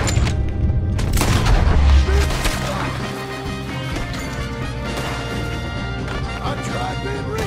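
Gunfire in Red Dead Redemption 2 cracks out amid a dense, loud game mix, with heavy booming impacts early on and sustained clatter over a music bed and occasional voices.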